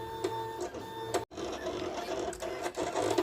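A cutting machine cuts a strip flock design for a hoodie: close, quiet whirring motor with rhythmic clicking carriage movements, a brief pause partway through, then the cutting resumes.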